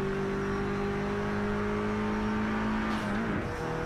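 Race car engine roaring in the Project Cars 3 video game, a steady droning tone that dips and wavers near the end, mixed with background music.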